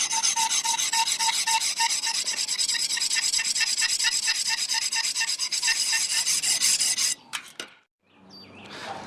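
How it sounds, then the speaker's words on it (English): A knife blade is ground on a finer sharpening stone, a steady rhythmic rasping with even back-and-forth strokes. It runs close and loud for about seven seconds, then breaks off into brief scrapes. "Now I'm just switching to a finer stone"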